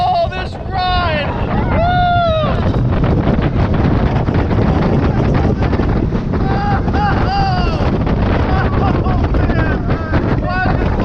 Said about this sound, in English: We're gonna take a backseat ride on Xcelerator.